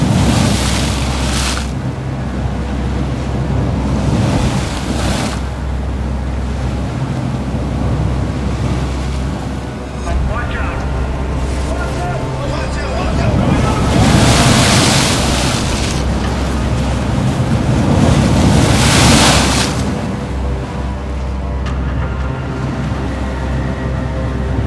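Ocean waves and gusting wind on the cold Bering Sea off Alaska during king crab fishing, a steady loud roar of surf and wind buffeting with swelling surges around the middle and near the end, and boat noise low underneath.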